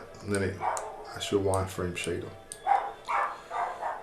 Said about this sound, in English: And then excuse the dog barking.